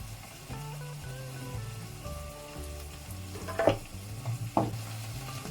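Spices, salt, dried herbs, paprika and curry powder being stirred into eggplant and vegetables in a pan, with a steady close sizzle, a scraping stir and a few louder clacks of the utensil toward the end.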